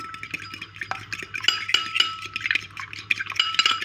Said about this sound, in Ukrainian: також я взяла яйце, я його зб'ю